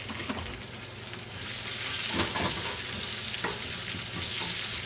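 Vegetables sauté in a pan for a breakfast frittata, a continuous loud frying sizzle that swells after the first second, with a few stirring scrapes and no talking.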